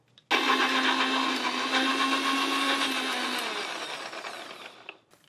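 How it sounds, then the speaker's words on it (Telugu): A mixer grinder whirs loudly as it blends a ragi smoothie with dry fruits, starting abruptly and running steadily for several seconds before winding down, with no talking. "మిక్సీ పట్టేద్దాం"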